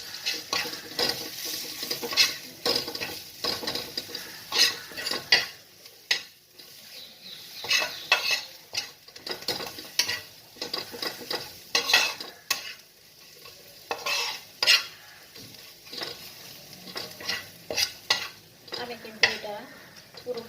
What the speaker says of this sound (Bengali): সব একসঙ্গেই নাড়াচাড়া করব